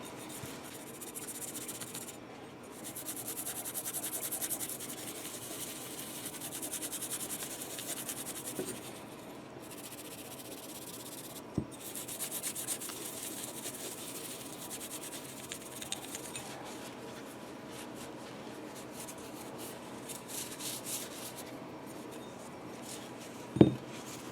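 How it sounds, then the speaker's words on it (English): Metal polish is rubbed onto a guitar's metal parts with a cloth, giving soft, continuous scratchy rubbing strokes close up and fairly quiet, with a few brief taps and clicks and no voices. "let's put a little metal polish on it"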